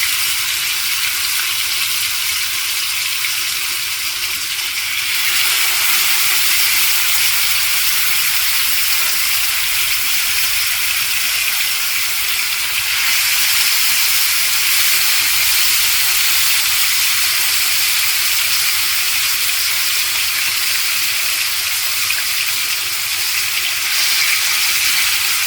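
Chicken pieces laid into a hot pan of oil give a loud, steady sizzle with a broad hiss that holds without a break throughout, close up and with no talk over it.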